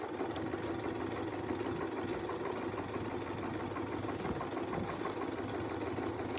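A sewing machine sews around a Westalee curved template in a continuous, even hum at moderate level, steady throughout with no pauses or voices.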